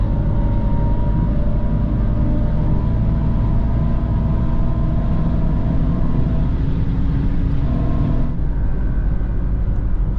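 A Mercedes-AMG EQE 53 electric car on the road gives a steady, loud synthetic drive hum with a broad low rumble and sustained tonal layers, shifting pitch slightly near the end. No one talks.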